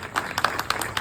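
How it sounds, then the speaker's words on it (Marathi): A crowd claps at a birthday celebration in a Marathi-speaking event hall, a brief burst of scattered, overlapping hand claps at moderate volume. "आपल्यामधून जोरदार टाळी झाली पाहिजे."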